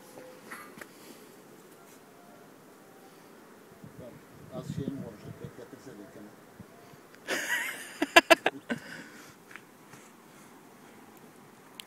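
Honeybees buzz around a hive close by, a soft droning that rises into louder bursts of buzzing near the end, with faint rustling in between.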